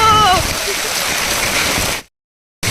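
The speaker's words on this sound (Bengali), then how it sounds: "বড় বৃষ্টি পড়ছে বড় পুরো বরফ পুরো ভরে গেছে রাস্তায়" Heavy rain mixed with hail pours onto a street as a dense, steady wash of noise, with a voice briefly at the start, then cuts off abruptly before a short return.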